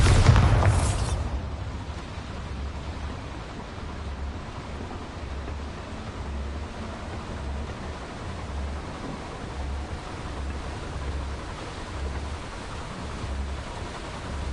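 In Hogwarts Legacy, a Bombarda spell blast opens with a loud booming burst, then a long rumbling tail fades into steady low ambience with a faint pulsing undertone.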